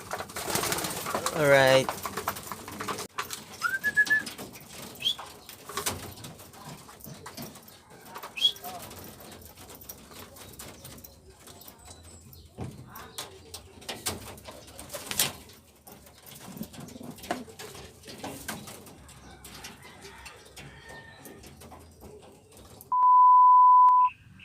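Racing pigeons cooing softly around a loft at a pooling race, with scattered rustling, someone talking now and then, and a sustained electronic beep near the end.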